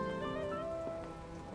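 Heavy rain falls outside in a steady, dense hiss with pattering drops, continuous and fairly loud throughout with no voices.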